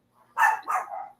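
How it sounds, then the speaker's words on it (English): Dogs bark nearby, two or three short sharp barks in quick succession from close range, loud against a quiet background. "the dogs are going crazy"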